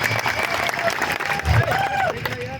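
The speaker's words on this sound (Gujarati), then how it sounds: "બધા જ માટે એકવાર આપણે જોરદાર તાળીઓ પાડી લઈશું" An audience at a public gathering claps loudly and steadily in a dense round of applause, with scattered voices and calls mixed in.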